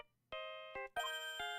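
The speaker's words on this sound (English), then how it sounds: "Oh, it's a samurai ringtone." A samurai-style phone ringtone from the Ace Attorney video game plays as a series of bright, bell-like tonal notes in quick rhythmic hits, clear and fairly quiet.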